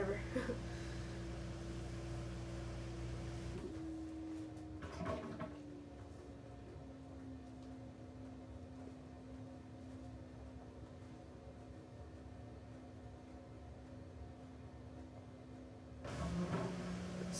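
An LG WM3770HVA front-loading washing machine spins with a steady hum that shifts pitch partway through. A few knocks and clunks break in, and a faint voice talks in the background.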